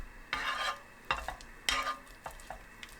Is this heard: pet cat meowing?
no